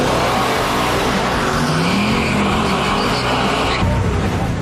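A muscle car roars down a quarter-mile drag strip, its loud engine holding a steady, powerful rumble with a rising pitch sweep midway before the sound cuts back slightly near the end.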